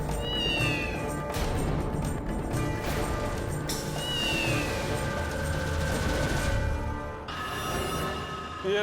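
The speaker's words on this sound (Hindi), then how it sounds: "काली बिल्ली ने हमारा रास्ता काट लिया।" A black cat meows repeatedly near a boss's bungalow, several loud, drawn-out rising meows spread across the stretch over a dense, busy background of noise.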